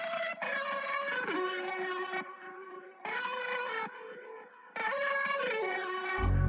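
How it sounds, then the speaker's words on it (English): Improvised keyboard synth lead with a textured preset, played as sustained, gliding phrases in three separate bursts with short gaps between them, moderately quiet and heard alone. "Finally, I add a super cool lead, just improvise with my keyboard"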